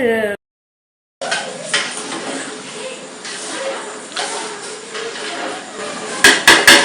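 Broken rice grits being stirred into porridge in a pot for a festival offering, with repeated scraping and clanking of a utensil against the metal pot, close and fairly loud, ending in a few sharp knocks.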